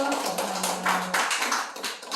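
Applause from a church congregation after a sermon, a dense steady patter of many hands clapping at moderate distance, continuous for a couple of seconds with no talk.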